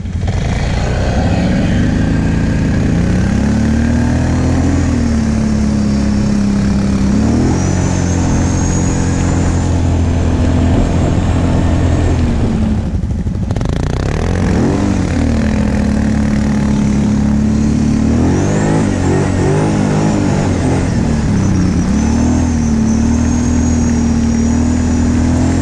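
A Kawasaki KVF 750 quad runs loud and close in snow, its engine holding a steady drone with several swells as it revs and the wheels spin, briefly dropping off midway before surging again.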